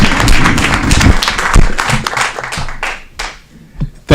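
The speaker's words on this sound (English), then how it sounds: "let's give him a round of applause as he steps up" Applause from the audience at a city council meeting, a burst of clapping that thins and fades over a few seconds, with scattered claps near the end.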